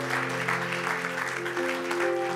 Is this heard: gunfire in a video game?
no